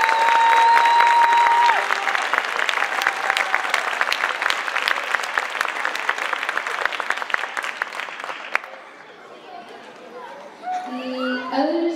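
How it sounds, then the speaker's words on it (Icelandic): Audience applause at a youth team gymnastics championship in Iceland, a dense, loud wash of clapping with crowd chatter and a voice over the PA, fading out after about eight seconds into quieter murmuring. "Gefið gott klapp"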